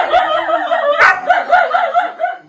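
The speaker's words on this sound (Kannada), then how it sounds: "ಇವ್ರೇನಿಗೆ ಇಷ್ಟೊಂದು ಬೊಗಳ್ತಾನೆ?" A dog yips and whimpers in a rapid series of short, high, close-up vocalizations with brief gaps, fairly loud and alone.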